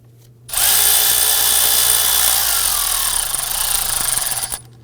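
A power tool whirs loudly for about four seconds, tightening a valve cover bolt on a 2008–2011 Ford Focus engine, then winds down and stops.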